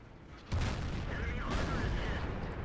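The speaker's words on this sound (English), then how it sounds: "So we continue to shoot at the FCM 50T" A deep cannon boom from a Super Pershing tank firing in World of Tanks, followed by a second blast about a second later, both trailing into a rumbling decay, with speech underneath.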